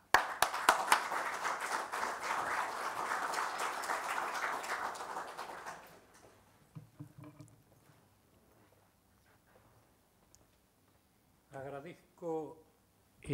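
Audience applause for the Academia Nacional de Ciencias de Buenos Aires at the Premio Magnus 2014 ceremony, a dense burst of clapping for about six seconds that fades out, followed by quiet and brief speech.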